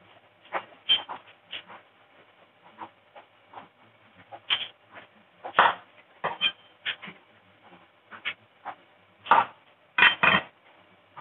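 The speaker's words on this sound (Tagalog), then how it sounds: "Sibuyas. Hati lang sa dalawa." A knife cuts an onion in half on a board in a home kitchen, heard as a series of sharp, close taps and clicks at irregular intervals, with no talk.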